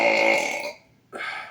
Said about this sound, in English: I try to make that burp as bassy as possible.